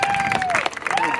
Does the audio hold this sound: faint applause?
yes